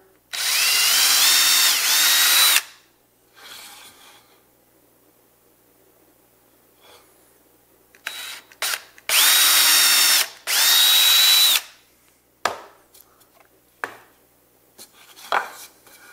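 A power drill bores a 3/8-inch hole for a DIY screwdriver rack in two loud, steady whirring bursts of about two seconds each, separated by quiet handling clatter close by.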